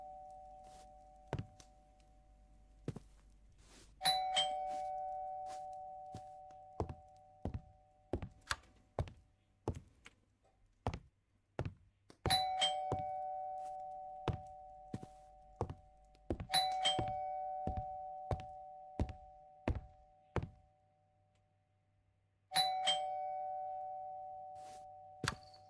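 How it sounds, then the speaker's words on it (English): A house doorbell rings again and again in bursts of chimed tones, mixed with sharp knocks and thumps at irregular intervals, clear and close in an otherwise quiet room, with no speech. "Who is ringing the hell out of my doorbell?"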